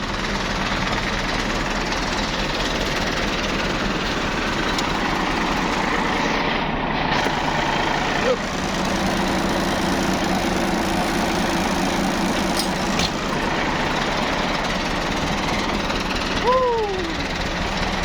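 A wheel loader's diesel engine drones loudly and steadily throughout at a stone-hauling site, with a low, continuous rumble and occasional faint voices underneath.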